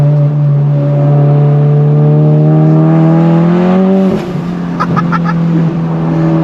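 A modified VW Golf GTI with an IS38 turbo does rolling burnouts on wet road, engine droning loud and close at a sustained high pitch, then dropping sharply as revs fall, followed by brief crackles and pops.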